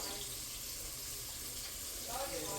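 Tap water runs steadily into a sink as green lentils are rinsed, a soft continuous broadband wash with a slight swell near the end, no talk over it.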